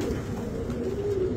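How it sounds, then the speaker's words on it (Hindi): Pigeons cooing softly and steadily at close range among a loft of Punjabi high-flyer and low-flyer pigeons, a low continuous murmur with no talk. "अब देखिए, मैं आपको कबूतर दिखाता हूं।"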